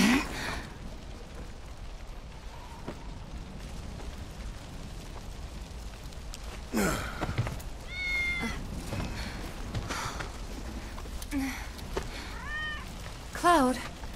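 In Final Fantasy VII Remake, a cat meows several times, short rising cries scattered through the second half over a constant noisy game ambience, with voices present.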